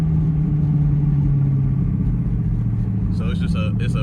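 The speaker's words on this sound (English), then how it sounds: "It sounds way better when you downshift if you just blip the throttle just a little bit." A Dodge Charger Pursuit's engine downshifts from third to second, a deep, steady engine drone close by with a pitch shift partway through, and someone talks over it near the end.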